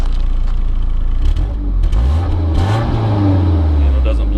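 A 1991 BMW 318is E30 coupe with the M42 engine idles, then revs up in a rising, swelling blip before settling, close and loud, with people talking over the engine.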